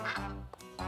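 A cartoon duck quacks in three short, nasal bursts, close and clear, with brief gaps between them.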